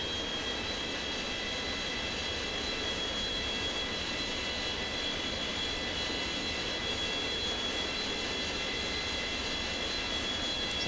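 Boeing 727 jet engines run in the X-Plane flight simulator, a steady, loud, continuous roar and whine with no change in level throughout and no voices.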